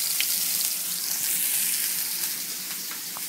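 Food frying in a pan on a home stove for dinner, a steady, close hiss and sizzle with a few small pops and crackles, heard alone without talk.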